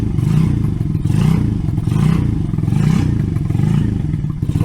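An RPS Racer 140 small engine fitted with a new stainless exhaust idles with the choke on, a loud, close, throbbing putter with a steady pulsing rhythm and slight swells in revs, no voices.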